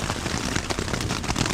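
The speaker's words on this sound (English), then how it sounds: "It's actually raining." Rain patters steadily on a tent during a summer heat wave on a bikepacking trip in British Columbia, a dense, even hiss of drops with no voices.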